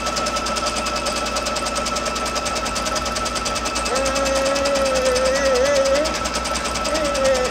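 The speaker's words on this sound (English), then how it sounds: "I'm hitting the start button and we are going to embroider out our placement stitch" An embroidery machine stitches a placement outline for a cat quilt block, its fast even needle rattle running loud and continuous, while a voice rises faintly over it.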